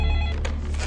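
A brief electronic telephone ring sounds close by over a low background hum, cut off after less than a second.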